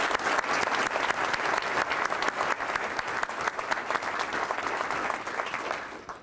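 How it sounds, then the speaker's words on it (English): A gala audience gives Al Purrington a warm, sustained round of applause. The clapping is dense and loud throughout, then tapers off at the very end, with no speech. "Let's give Al a real round of applause"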